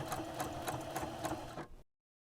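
A sewing machine runs steadily for under two seconds, stitching bias binding onto a smock apron with a rapid rhythmic chatter, then stops abruptly into silence.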